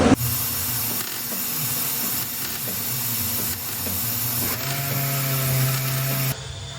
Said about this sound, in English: we're going to just weld it back together now, as well as putting a bit of weld in this section